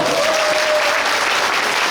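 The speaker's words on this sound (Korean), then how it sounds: "수고하신 우리 합창단 여러분께 큰 박수 부탁드립니다" A Korean audience claps loudly for a choir at a May 18 uprising memorial cultural event in Suncheon, a dense, steady wash of applause lasting throughout without talk.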